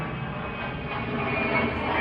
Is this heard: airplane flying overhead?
yes